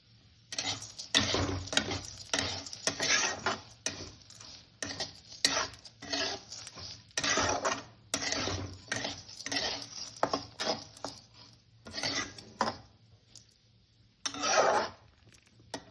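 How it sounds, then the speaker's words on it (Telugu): Urad dal frying in a pan for a curry leaf and amla spice powder, stirred with a utensil that scrapes and clatters against the metal in repeated bursts over a low steady hiss. "అందుకు నూలుపప్పు వేసుకుందాం"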